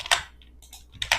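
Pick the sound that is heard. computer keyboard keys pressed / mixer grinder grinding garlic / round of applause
computer keyboard keys pressed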